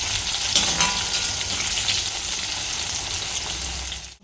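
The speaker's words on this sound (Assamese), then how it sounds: "অলপ পিঁয়াজ বেছিকৈ দিম। ফ্ৰাই কৰি লওঁ।" Sliced onions sizzle steadily in hot oil in a home kitchen, a close, continuous crackling fry with a faint stir, fading out at the end.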